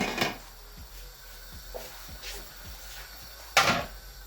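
Lid being set onto a cooking pot of rich vegetable soup with stockfish, one loud clattering metallic clank near the end, preceded by a softer clatter and low kitchen background.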